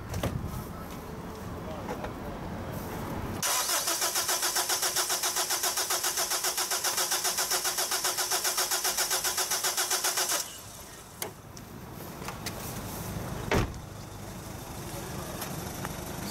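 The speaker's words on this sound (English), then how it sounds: "crank engine" A 2006 Honda FR-V diesel engine cranks with the throttle open during a relative compression test, the starter churning in a loud, rapid, even rhythm for about seven seconds before stopping, with workshop noise around it.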